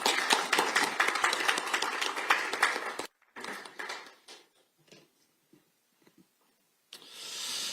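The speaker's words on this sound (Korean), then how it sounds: "큰 박수 부탁드립니다." At a political forum, an audience applauds as a party leader is called up to speak, with dense clapping for a few seconds that thins to scattered claps and quiet, then swells again briefly.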